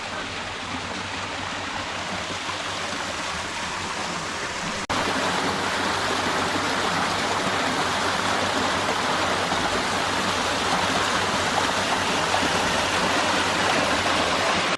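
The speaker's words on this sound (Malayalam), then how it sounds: "ഇതൊരു ചെറിയ വെള്ളച്ചാട്ടം, ഇതിനുള്ളിൽ ഇവർ സെറ്റ് ചെയ്ത് വെച്ചിരിക്കുന്ന ഒരു ആർട്ടിഫിഷ്യൽ വെള്ളച്ചാട്ടമാണ്." Small artificial waterfall at a heritage museum, a constant close rush of falling water that grows noticeably louder about a third of the way through and then holds steady.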